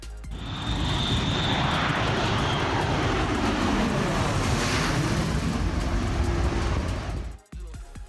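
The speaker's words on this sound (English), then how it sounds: "You can hear a supersonic aircraft long before it ever flies overhead." A supersonic aircraft roars overhead in a loud, sustained rush that swells and falls as it passes, then cuts off abruptly near the end, leaving a softer rumble.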